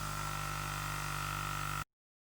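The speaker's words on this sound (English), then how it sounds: "obviously you could hear the compressor in the background." An airbrush compressor spraying primer gives a steady, close mechanical hiss and hum with a low drone, running evenly before cutting off abruptly into silence.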